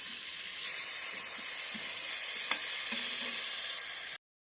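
Tomatoes and salt hitting a hot pan for a gongura egg curry, a steady close sizzle and hiss with a few soft clinks and stirring knocks, no voices.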